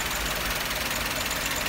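A used Toyota Etios Liva engine runs at idle, a steady close rumble with a faint rhythmic knock throughout and no talk.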